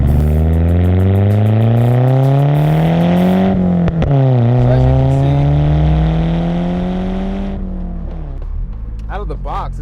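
A Pulsar with all-wheel drive revs hard through its five gears, the engine note climbing steadily, dropping at a shift, then climbing again, loud and close before easing off as a voice comes in at the end.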